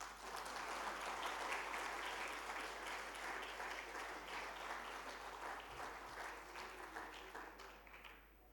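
An audience at a Hindi literary event in India breaks into sustained applause, a dense wash of many hands clapping that holds steady and then tapers off near the end.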